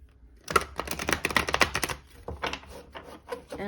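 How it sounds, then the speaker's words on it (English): Tarot cards riffled and shuffled by hand, a close, crisp run of rapid papery flutters and snaps coming in short bursts with brief pauses between them. "we'll do one last shuffle"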